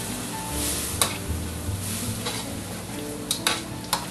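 Food stirred in a pan for chicken Costa Brava, soft sizzling under scraping strokes with a few sharp utensil knocks against the pan, close up and without speech.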